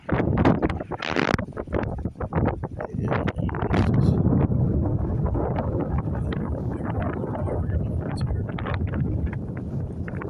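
Strong north gale wind over the Intracoastal Waterway buffets the microphone in loud, continuous gusting roars with rough low rumble and irregular bursts, close and unbroken throughout, with no speech.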